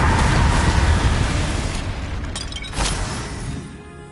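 Booming spell blast of Confringo in Hogwarts Legacy, loud rumbling explosion that fills the sound and slowly decays, with a few crackling bursts as it fades.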